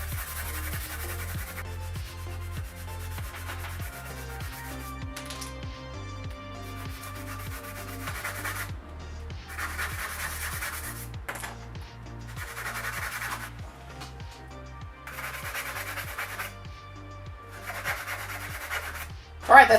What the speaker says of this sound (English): I used a sanding block to roughen all of the surfaces on each of the pieces